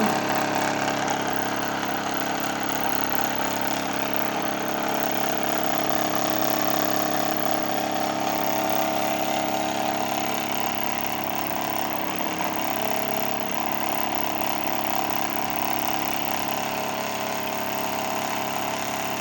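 A BLHF-RM synchronous motor spins a propeller while a wrench is pressed against it as a load, giving a steady, loud mechanical hum with a constant tone throughout and no voices.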